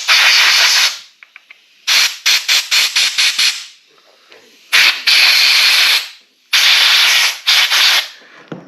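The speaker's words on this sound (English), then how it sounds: "Now we're just going to take a little air and we're going to clean this out a little bit." Compressed air from an air gun blasts through the carburetor of a Troy Bilt 2700 PSI power washer in loud, close, sharp hissing bursts, some long and some quick rapid pulses, separated by short silences.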